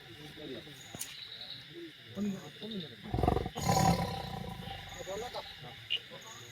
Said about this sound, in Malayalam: വയനാട് കേണിച്ചിറയിലിറങ്ങിയ കടുവ കൂട്ടിലായിരിക്കുന്നു.